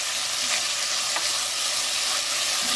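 Garlic cloves fry in a pot of shrimp noodle soup with a loud, continuous sizzle that stays steady throughout, with no voices.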